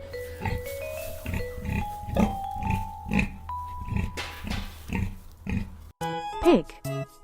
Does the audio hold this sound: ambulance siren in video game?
no